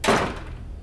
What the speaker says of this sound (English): Once the door shuts